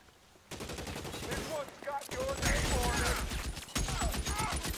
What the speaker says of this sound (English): Who's he shooting at?